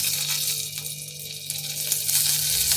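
Green chili and black cumin seeds sizzle in hot oil as a tempering for a Bengali rui posto fish dish, giving a steady, close crackling hiss with no talking.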